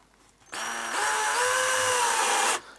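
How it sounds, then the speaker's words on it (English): Power drill boring a hole, a steady high whine that starts abruptly, rises slightly in pitch as the bit bites, runs for about two seconds nearby and then cuts off. "So I'm not kind of guessing as I'm trying to drill."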